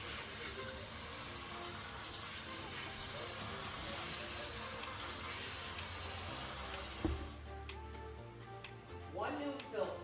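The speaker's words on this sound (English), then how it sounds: "I'm going to spray it with the sprayer quite hard with my sink sprayer here" A sink sprayer blasts water hard onto an Endless pool filter, giving a loud, steady broadband hiss for about seven seconds before it cuts off, leaving only a faint background.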